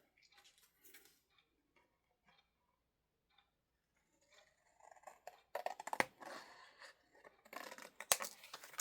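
Scissors snip through paper, old book pages, in faint, sparse cuts at first, then in louder, quicker bursts of crisp snipping close by.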